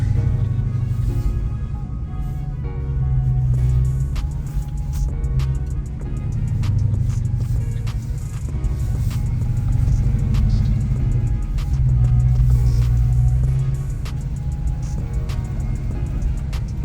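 A Dodge Magnum Hellcat engine drones loudly and steadily from inside the car at speed, its deep low rumble swelling and easing in long waves as the throttle rises and falls, with road whir beneath and no talking.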